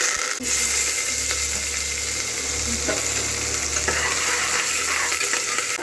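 Mustard seeds and curry leaves sizzle in a couple of spoons of hot oil in a pressure cooker while bus-stand style sambar is being made: a loud, steady, close crackling sizzle throughout, with no talking.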